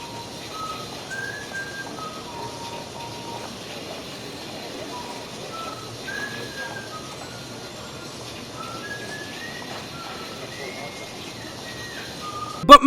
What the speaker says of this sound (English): There's even a dude in the shower whistling the main theme of the game.